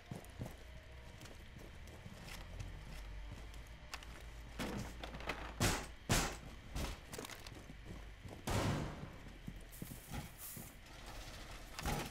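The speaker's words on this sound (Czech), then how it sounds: "Ale jaj, tu se střílí." Sharp bursts of gunfire in the video game Rainbow Six Siege crack out in scattered shots and short volleys over a low rumbling background, some loud and close, others fainter.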